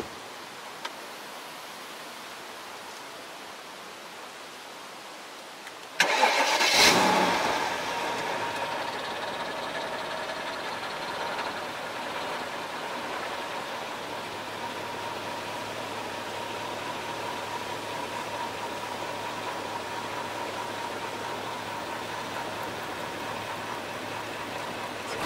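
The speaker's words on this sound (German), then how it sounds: "wir haben hier einen V8 M113. Einen schönen Motor, den wir einfach nicht tot bekommen." A Mercedes CL 500 with the M113 V8 fires up after a quiet stretch: a short sharp crank-and-catch burst, then a steady, fairly subdued idle hum that continues evenly to the end.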